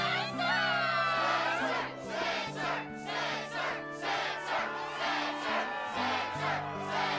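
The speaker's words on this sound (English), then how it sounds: "Yes, the crowd is fired up" A crowd cheers and shouts at the Struggle match in Kingdom Hearts 2, a loud, continuous roar of many voices rising and falling in waves over an underlying musical drone.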